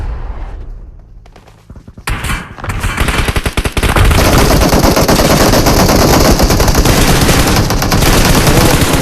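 Gunfire in the mobile battle royale game PUBG Mobile, beginning with a few scattered shots and then turning into loud, continuous rapid automatic fire that fills the rest of the clip.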